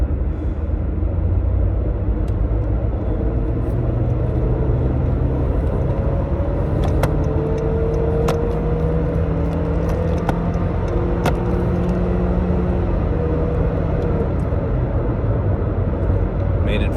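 A car drives onto the interstate with a constant low road-and-engine rumble and tyre noise from inside the cabin, joined by a few faint clicks, while a person talks over it throughout.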